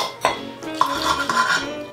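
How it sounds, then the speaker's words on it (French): Utensils scrape and clink against a pot as onions are stirred, with soft scraping strokes and a few sharper metallic knocks, close by. "Les oignons ici, on mélange, enfin on tourne et retourne, on égalise."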